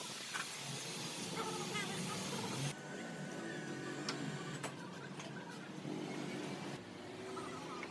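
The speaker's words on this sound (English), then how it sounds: "The machine starts rotating the crankshaft." Shop machine turning a Caterpillar engine crankshaft on a grinding rig during a rebuild, giving a steady mechanical whir and hiss with faint ticking throughout, fairly quiet and continuous, with no voices.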